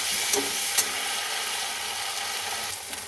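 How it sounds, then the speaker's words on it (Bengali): Onion and garlic fry in oil in a pan for a Bengali fish curry, giving a steady close sizzle with a few brief stirring scrapes and no talking. "আর একটু ভেজে নেব যাতে পেঁয়াজ আর রসুনের কাঁচা গন্ধটা না থাকে"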